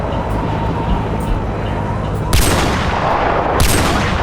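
Two loud, sharp gunshots from a Steyr AUG rifle fire about a second apart, each a sudden blast with a brief ringing tail, over a steady loud background roar.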